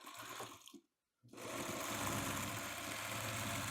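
A domestic sewing machine stitches quilt fabric in a fast, even motor whirr. It breaks off into a brief pause, then resumes steady stitching close by with no talking.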